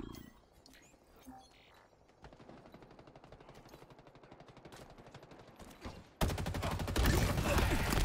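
Automatic weapon fire in Halo Infinite, with rapid bursts crackling at a distance that grow into loud, sustained close-range shooting near the end.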